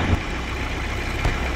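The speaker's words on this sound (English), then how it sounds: "This engine's so fucking loud." A vehicle engine idles in the Roblox Battlefield video game, a loud, steady low rumble filling the whole moment with a couple of brief thumps, no talking.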